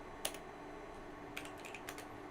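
Faint computer keyboard typing during Windows XP network setup on a Cisco wireless access point: a few scattered, quiet key clicks in small clusters over a steady background hiss, with no speech.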